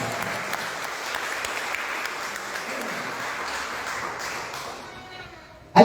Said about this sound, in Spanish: de ese aplauso al Señor